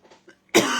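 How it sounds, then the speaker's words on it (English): A single sharp, loud cough bursts out near the end after a few faint breathy sounds, close to the microphone. "I don't know what's going on with me and that coughing stuff."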